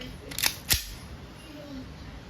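A WE airsoft Hi-Capa 2011 5.1 Type K gas pistol fires two sharp, close shots in quick succession, then a quiet tail.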